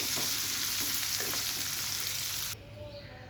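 Continuous close sizzle of giant freshwater prawns being turned in hot soybean oil, with a few soft scraping stirs, cutting off abruptly near the end to a quieter hiss; no one speaks.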